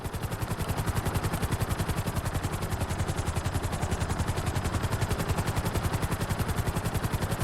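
Helicopter in Grand Theft Auto V flying at full speed with its nose tipped down, a loud steady rotor thump with rapid regular blade chop over a constant engine whine, continuous and close throughout.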